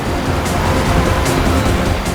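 A car races along at speed, a steady loud roar of engine and road noise with whooshing rushes of wind, and no talk over it.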